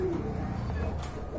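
A pigeon cooing softly up close, a brief low murmuring call over faint background noise, with a voice talking nearby.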